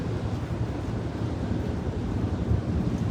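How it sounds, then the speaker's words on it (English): Steady wind blowing outdoors during a California wildfire evacuation, with smoke drifting toward the listener; a continuous low, rumbling buffet against the microphone, loud and unbroken, with no speech. "the wind is blowing toward us"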